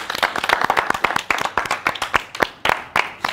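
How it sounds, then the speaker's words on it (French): Studio audience on an Ivorian edition of the quiz show Questions pour un champion claps in a sparse, uneven rhythm of distinct, close individual hand claps rather than a dense roar. "On applaudit pour Emma"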